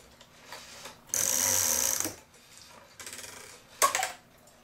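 A cuckoo clock mechanism whirring as it starts up and ramps up during repair, a loud buzzing run followed by a shorter second whir and a sharp metallic clack, close by.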